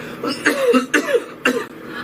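A person coughs three times in quick succession, each cough loud, close and harsh, with short gaps between them.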